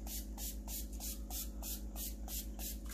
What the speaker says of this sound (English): with your easy peasy spray wax from Dixie Belle, we are going to spray that to seal this